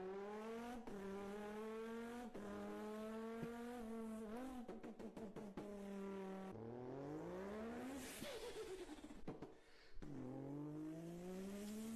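Race cars revving through gear changes with rising, falling engine pitch, tire squeals and a car sweeping past, loud and continuous.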